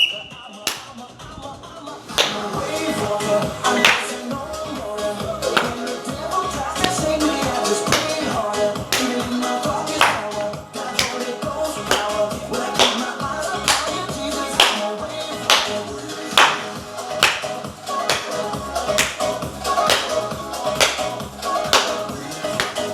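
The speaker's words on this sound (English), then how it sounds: "We're gonna start with a side step to clap." Rhythmic hand claps keep time through a beginner cardio workout's side-step exercise, landing at a steady pace over upbeat background music, each clap sharp and close.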